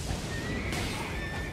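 A horse whinnies in Elden Ring, a clear, high neigh that rises and trails off over a dense, rumbling game soundscape.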